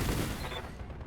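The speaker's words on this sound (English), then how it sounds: "Firing all weapons." A Battletech mech fires all its weapons at once in a single loud, close burst of blasts that quickly tails off within about a second.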